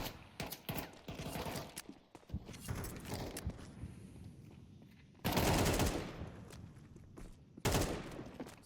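Rapid gunfire cracks in bursts in Counter-Strike 2 match play, with sharp volleys separated by quieter stretches and a loud sustained barrage near the middle and end.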